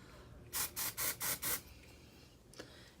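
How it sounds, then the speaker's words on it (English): Five quick, hissing bursts of a dry shampoo aerosol sprayed onto hair in even rhythm, close and fairly loud, followed by a faint tap and quiet room tone. "You want to spray it on like the first 2 inches of your hair."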